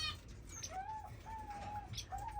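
Soft repeated cooing and calls from pet birds in an indoor bird room, three drawn-out tones at a moderate distance over a low rumble, with a little wing flutter.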